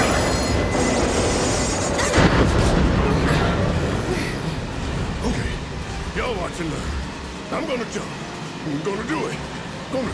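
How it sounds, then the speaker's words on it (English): Train rolling on rails in the Final Fantasy 7 Remake video game, a loud continuous rumble with squealing wheel tones throughout, under game voices and music. "Need to slow the train down."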